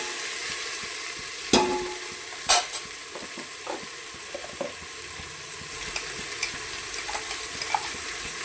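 A ladle stirs masala paste frying in hot oil for village-style mutton biryani, giving a soft continuous sizzle punctuated by a few sharp scraping clacks and light taps against the pan, with no voices.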